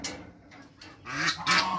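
A few short nasal honking quacks from ducks close by, rising at the end, with no talking.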